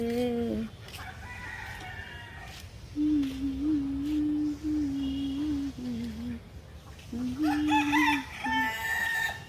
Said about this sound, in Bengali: মুরগি ডাকে মুরগি দেখুন